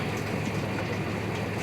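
Stack wagon with the tractor PTO running as it lifts a load of about 120 oat straw bales, giving a steady, loud mechanical drone and low engine rumble with no pauses and no talking.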